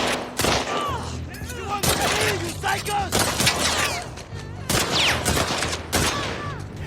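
Heavy gunfire in The Last of Us Part II fighting through a railyard: loud, close bursts and single shots rattle continuously, with a voice talking over the exchange.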